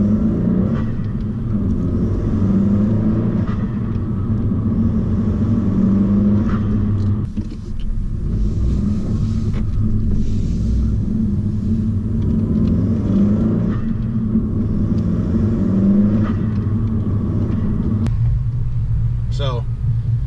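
A Honda Civic 1.5T turbo with an aftermarket intake hums with a steady low engine rumble from inside the cabin with the windows down, small rises in revs coming through under near-constant talk.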